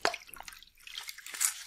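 Aquarium canister filter parts being rinsed in old tank water: faint, brief drips and small splashes of water, quiet and close, with no talking.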